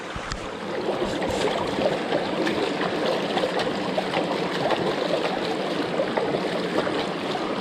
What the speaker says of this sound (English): Wash off the leaf now